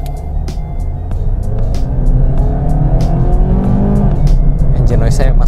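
A Honda Jazz RS or Mazda 2 GT hatchback accelerating hard from standstill to 100 km/h, heard from inside the cabin as a loud, steady engine drone rising in pitch under continuous road noise.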